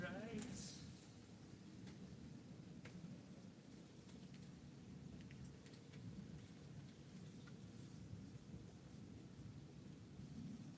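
Thunder rolls in a long, low, continuous rumble alongside steady rainfall, fairly faint and distant, with a few clicks and a voice speaking over it.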